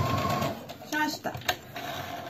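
Sewing machine stitching a vintage fabric bag, a short mechanical run broken by brief pauses and clicks, heard close over steady room noise while someone speaks softly nearby.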